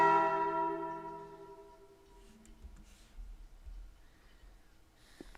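A single bell strikes loudly at the start and its ringing tone fades away over several seconds, followed by faint breathy sounds and soft rustling.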